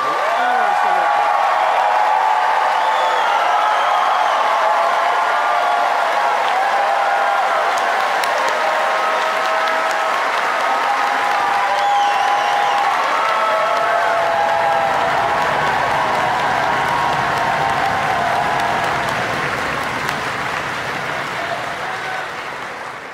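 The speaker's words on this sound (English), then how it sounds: "please stand or wave so we can give you a round of applause" A large audience in Bailey Hall at Cornelliana Night applauds in one sustained, loud wave of clapping that runs for over twenty seconds and tapers slightly at the end.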